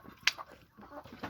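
Chickens being raised and fed cluck softly in short, scattered calls, with one sharper squawk standing out early; faint and close, with no talk over them.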